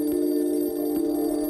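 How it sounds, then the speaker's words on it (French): A telephone rings at night with a steady, sustained electronic bell tone, loud and close, with no voices over it. "Vers 2 heures du matin, le téléphone sonne."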